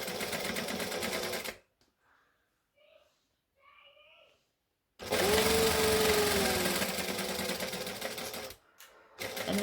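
A home sewing machine runs a dress seam for a Butterick 6094 Christmas dress in two close bursts of stitching, with a quiet pause between them and a brief stop near the end.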